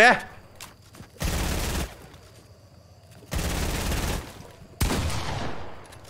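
Gunfire in the video game Fortnite comes in three loud, dense bursts of rapid shots separated by quieter gaps, with a voice faintly present.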